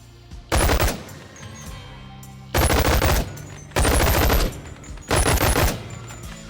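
MP5 submachine gun in the video game Hover Junkers firing four loud, close bursts of rapid shots, the first at half a second and the rest spaced about a second apart, with a quieter game hum between them.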